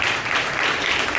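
Audience applause, a dense, even roar of many hands clapping continuously at steady loudness.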